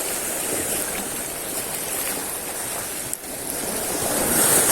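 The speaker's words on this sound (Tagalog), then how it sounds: "Medyo may galit ng alon din eh." Rough surf churns loudly and steadily at a fishing spot, a broad rushing wash of waves with wind noise, swelling a little louder toward the end.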